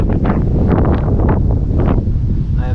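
Strong, gusty wind buffets the microphone outdoors during a fishing trip, a loud continuous roar with rustling and surging bursts, no voices.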